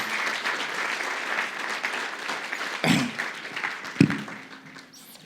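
Church congregation applauding at a Sunday morning service, a steady sustained clapping from a crowd that carries on for several seconds, with a couple of sharper bursts near the end before it tapers off.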